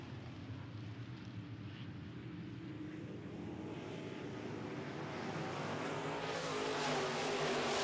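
Modified race cars in a feature race on an oval track, a distant continuous engine roar that swells louder toward the end as the pack approaches.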